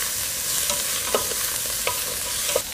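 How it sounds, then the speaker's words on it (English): Butter sizzles steadily in a pan with mirepoix, a dense continuous hiss broken by faint pops and light stirring clicks, close and alone without talk. "right about now we'll add another 2 to 3 tablespoons of butter. Let that get nice and melted."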